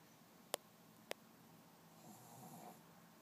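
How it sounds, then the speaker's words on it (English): A baby snoring very faintly, with a soft, breathy snore late in the quiet stretch after two sharp clicks. "Hear the baby snoring."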